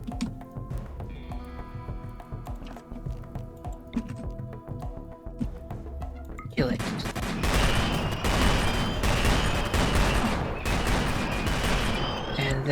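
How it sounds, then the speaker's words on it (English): Laser fire in the video game MGRP, starting with sparse ticking and clicking over a low hum, then erupting into a loud, dense, sustained burst of rapid crackling shots that continues to the end. "now it's firing a laser"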